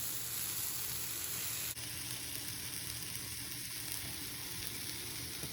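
Onions sizzle steadily in a hot pan while being fried for a homemade spicy salsa with toasted chile de árbol; a constant close, bright crackle with no voices.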